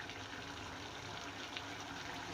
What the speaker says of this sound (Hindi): और अब इसमें मैं पानी डाल रही हूँ